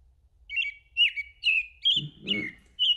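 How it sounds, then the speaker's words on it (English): American robin singing in a backyard, a run of six clear, flutelike whistled phrases spaced evenly about half a second apart, close and bright, with a brief low thump partway through and no voices. "But it's the American Robin."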